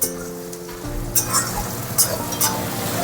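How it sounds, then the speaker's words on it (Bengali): Meat sautéing in a pan, a steady close sizzle broken by a few sharp clinks and scrapes as a utensil stirs it, heard alone without talk. "মাংস কষানো হচ্ছে"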